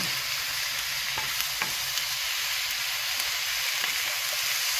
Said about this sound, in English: I just love that sound, that sizzling.